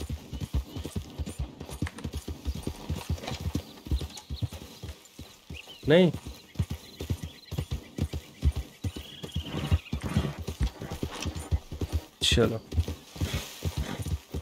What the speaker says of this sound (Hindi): चल भाई घोड़े